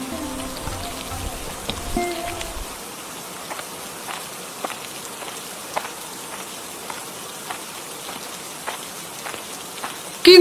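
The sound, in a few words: rain falling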